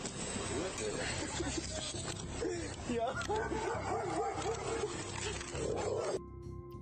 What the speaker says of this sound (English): where they could hear the dog barking nearby